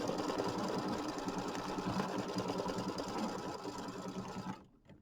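An embroidery machine stitches a tack-down line on a mini quilt block, a fast steady mechanical rattle of needle strokes heard up close, running continuously before stopping abruptly near the end.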